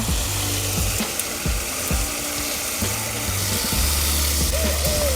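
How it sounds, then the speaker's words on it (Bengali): Washed aatap rice is tipped into a hot pan with potatoes, sizzling and frying while a spoon scrapes and stirs in bursts, the clatter and hiss fairly close. "হাফ কাপ পরিমাণ যে আতপ চালটা আমি নিয়েছিলাম সেটা দিয়ে দেবো এটা ধুয়ে রাখা আতপ চাল"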